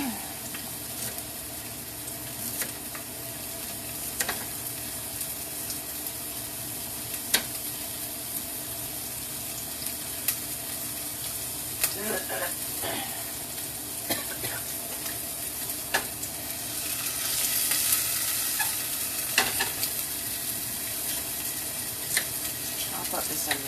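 One and a half pounds of ground chuck sizzles in a pan for a walking taco casserole, a steady crackling fry broken by stirring scrapes and clicks, with a person talking over it at times.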